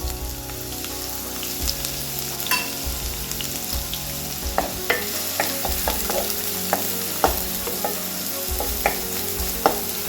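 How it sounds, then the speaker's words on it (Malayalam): Finely chopped onions sizzle steadily in hot coconut oil for a small-batch korma, a continuous frying hiss punctuated by repeated spoon scrapes and stirring clinks against the pan, close and with no voices. "നമ്മൾ പൊടിയായിട്ട് അരിഞ്ഞു വെച്ചേക്കണ സവോള ഇട്ടിട്ട് ഒന്ന് വഴത്തിയെടുക്കണം"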